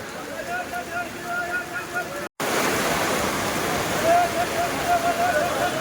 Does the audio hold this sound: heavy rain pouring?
yes